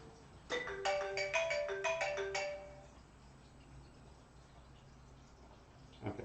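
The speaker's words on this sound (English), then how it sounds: "and then a phone rings" A phone ringtone plays a quick run of bright, chiming melodic notes for about two seconds, fairly loud in a quiet room, then fades, with a soft knock near the end.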